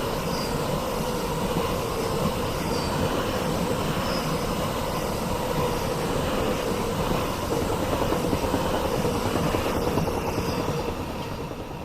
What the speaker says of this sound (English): I think the train is making some sort of motor sort of sound.